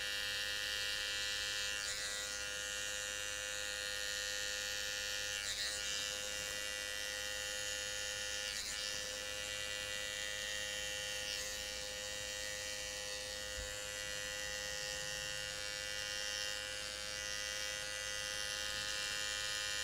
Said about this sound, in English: we start and then we stop just below where we left off with the adjustable clipper.